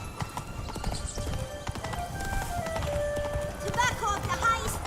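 Hooves of the horse Roach clip-clop at a gallop in Witcher 3, a steady rhythmic beat under game music and a voice speaking, with a brief whinny near the end.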